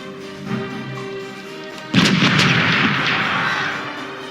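A ship's cannons fire a broadside in the pirate game Corsairs Legacy: a sudden heavy boom of several near-simultaneous blasts that rumbles on and fades slowly after a quieter lead-in.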